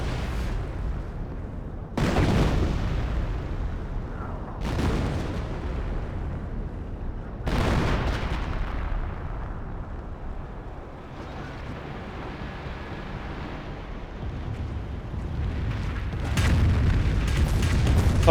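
Rocket barrage explosions in Company of Heroes 1, a World War II strategy game, land as several loud, booming blasts a few seconds apart, each with a sharp onset and a rumbling decay, over a continuous battlefield din.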